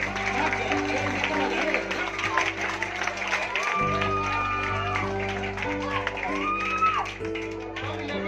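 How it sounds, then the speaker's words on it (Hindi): Audience clapping and crowd noise at a Saraswati Puja stage event, a steady wash of applause under a loud amplified voice and music, with shouts mixed in. "जोरदार तालियां हो जाए"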